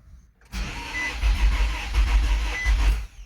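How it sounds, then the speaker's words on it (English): A 2015–2020 Nissan Rogue with a fuel problem cranks and fires up after a short silence, then runs roughly for about three seconds before dying out. "the car started and shut off"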